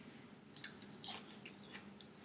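Crisp crunching bites of dehydrated kale chips with Thai seasoning, a few sharp crackling bursts close to the mic over a low steady room hum.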